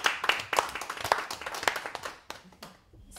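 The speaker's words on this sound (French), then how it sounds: "je vais nous demander d'abord de nous applaudir pour ce travail que nous avons fait durant toute la journée" A meeting audience at the close of a day-long discussion session claps in scattered, uneven bursts that thin out toward the end, fairly close but moderate in volume.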